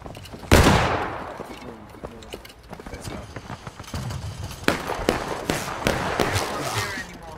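A musket volley in the Civil War video game War of Rights cracks out loudly and all at once early on, followed by scattered, more distant shots and clatter, with voices talking over the battle.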